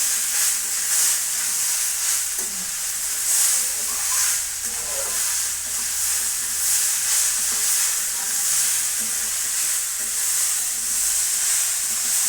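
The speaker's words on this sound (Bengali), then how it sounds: "দিয়ে এটা ভালো করে নাড়বো।" Curry with turmeric and green chillies frying in a pan, a loud, steady, close sizzle with soft hissing steam and faint stirring underneath, no speech.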